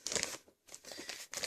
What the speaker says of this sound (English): let me take it out of the plastic bag.